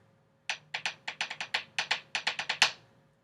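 About fourteen crisp snare drum strokes play a marching-band check pattern with a lilting triplet feel, sharp and close, with no other sound around them.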